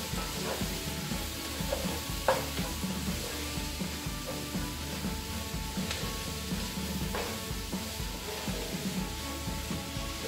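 Chopped peppers and celery sizzle and crackle steadily in a frying pan as a bolognese sauce is started, with occasional stirring scrapes over a continuous close hiss and no talk.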